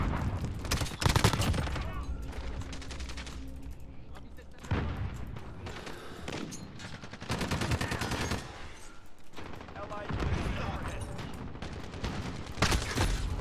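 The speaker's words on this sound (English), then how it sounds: "Got that long range shotgun." Shotgun and automatic gunfire in a fast online shooter match, firing in dense bursts and rapid volleys throughout with short gaps, loud and close, while a player talks over it.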